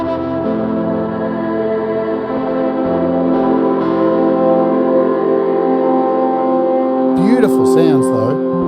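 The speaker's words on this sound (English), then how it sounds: "This is how convolution reverb works." A sustained, shimmering tonal wash from a convolution reverb effect in an iOS app, with long reverberant tails throughout, swelling slightly before a brief sweeping flourish near the end.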